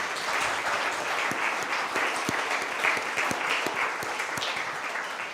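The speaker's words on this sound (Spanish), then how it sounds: "Denle un aplauso, por favor" A church congregation applauds steadily during a sermon, a dense, fairly soft wash of clapping with a few sharper individual claps, no voices over it.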